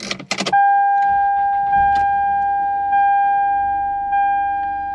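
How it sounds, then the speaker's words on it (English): A car engine cranks and starts after its battery terminals are reconnected, a short burst of starter noise followed by a steady idle, loud and close, alone with no talking. "I'm just gonna crank it back up again and just see how it sounds."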